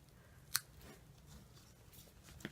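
A pair of scissors makes one sharp, clean snip through a length of ribbon for a fall leaves greeting card, quiet and close, followed by a faint second click.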